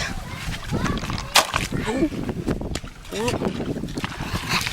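A DIY RC amphibious car airboat runs on water. It gives a wind-buffeted whir with splashing and a sharp burst near the start, and faint fluctuating tones rise and fall underneath.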